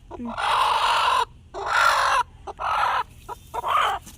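A hen with her newly hatched chicks clucks and squawks loudly at close range in four harsh, broadband bursts separated by short pauses.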